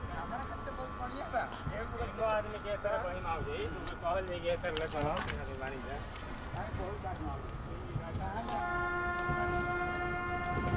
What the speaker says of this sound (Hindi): निकल रही है अपनी ट्रेन कुंद्रा से